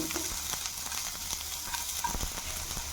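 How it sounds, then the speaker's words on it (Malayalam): Onion, small carrot and capsicum sautéing in coconut oil, a steady close sizzle with stirring scrapes running throughout, no voices. "ചെറിയ ക്യാരറ്റ്, കുറച്ച് ക്യാപ്സിക്കം, ഇതെല്ലാം കൂടെ നന്നായിട്ട് വഴറ്റുക."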